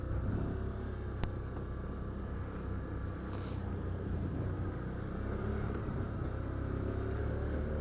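An ATV rumbles steadily in low gear along a rocky, steep Arkansas trail, a low continuous engine drone with a single sharp knock and faint rattles, no talking.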